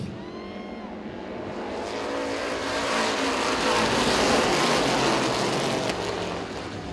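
Race cars racing at Baer Field Motorsports Park during a season championship event, engines roaring continuously as the pack passes, swelling louder toward the middle and easing slightly at the end, with no talk.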